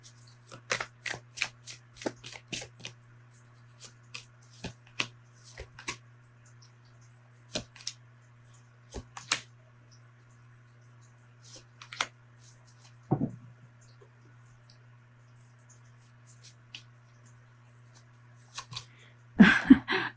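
Tarot cards are shuffled close up in a quiet room, giving quick bursts of crisp riffling and slapping that come in irregular clusters, with a longer, busier flurry at the end.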